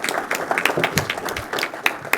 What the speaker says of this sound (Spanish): Démosle un fuerte aplauso y bienvenida